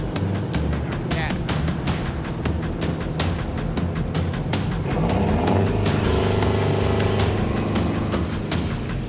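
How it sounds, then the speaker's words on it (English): A boat's winch grinds and clatters as its cable rides up on the spool guide, a loud, continuous mechanical drone broken by rapid knocking and creaking, with a rising whine partway through. "Those crazy sounds you're hearing coming out of the winch is the cable riding up on the guide of the spool."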